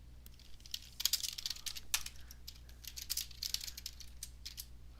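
Rapid, uneven typing on a computer keyboard, with bursts of clicks in clusters and short pauses, fairly close and moderately loud over a steady low hum.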